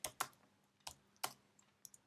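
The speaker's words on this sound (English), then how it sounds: "Let's start typing." Python code typed on a computer keyboard, a few crisp, quiet key clicks spaced irregularly, close up with no talking.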